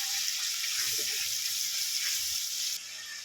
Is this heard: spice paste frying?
yes